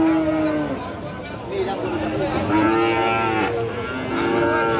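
Cattle moo loudly and repeatedly at a busy cow market in Monirampur, several drawn-out lowing calls over a steady crowd chatter, with people talking nearby.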